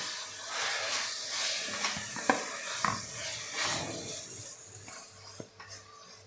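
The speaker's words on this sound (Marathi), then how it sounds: "आता यामध्ये आपण जे वांग मॅश करून घेतलेलं आहे ते यामध्ये आपल्याला घालून घ्यायचं आहे आणि आपल्याला हे परतून घ्यायचं आहे" Mashed smoky roasted eggplant bharit being stir-fried with onion and spices, a soft sizzling hiss with occasional spoon scrapes and taps against the pan, quiet and close, no voices.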